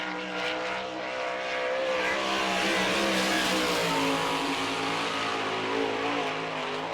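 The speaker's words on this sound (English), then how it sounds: "You listen to Kaufman, he is not letting off the throttle." A sprint car's Kreiner racing engine roars flat out at sustained high revs on a dirt oval in Barberville, Florida, a loud steady buzzing drone with rich harmonics that barely dips.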